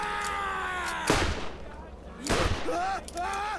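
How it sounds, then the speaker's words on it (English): A grenade explodes in Borderlands with two heavy broadband bursts a little over a second apart, set against background game sounds and a talking voice. "let's throw a grenade out there"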